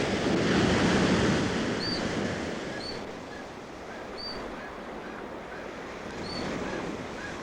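Thundering sea surf crashes on a rocky otter coast in a gale, a continuous broad wash of waves and wind with faint high calls piercing through at intervals.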